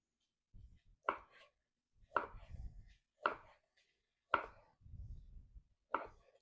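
A knife cuts through a thick beef roast on a board for cheese steaks, five or six distinct slicing strokes spaced about a second apart, each a crisp thud with soft scraping between, close and fairly quiet.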